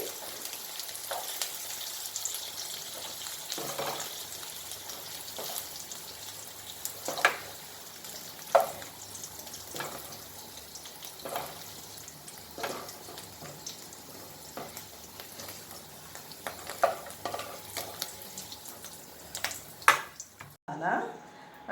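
Sliced onions fry in oil until medium-golden for a paneer masala curry, giving a steady close sizzle dotted with small pops and occasional stirring clicks, with a faint voice underneath.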